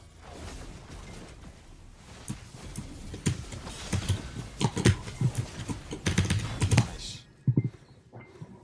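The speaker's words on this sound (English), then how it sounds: "That is a loud ass keyboard." A loud computer keyboard clatters with rapid, uneven keystrokes close to the microphone, building into dense bursts of clicking before stopping abruptly near the end.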